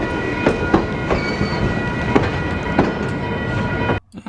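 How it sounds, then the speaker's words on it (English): A steam train leaving a station rumbles steadily along with rhythmic clicking of wheels over rail joints, a continuous loud mechanical roar that cuts off abruptly near the end. "we're going to speed the train up a little bit"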